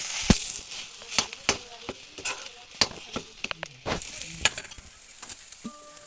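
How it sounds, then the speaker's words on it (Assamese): Boiled peas, potatoes and tomatoes fry on a low flame in a pan, a soft sizzle under a series of sharp scraping and stirring knocks from a utensil at irregular intervals. "প্ৰায় 5 মিনিটমান সময় এইখিনি ল' ফ্লেমত ভাজিম"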